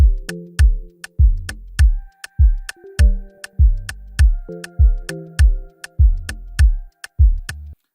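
An Afrobeat bass line jumps an octave up and down in a steady, bouncy repeating rhythm, each plucked note short and punchy, with light ticking clicks on top and a sparse higher melody drifting in the background; no voices.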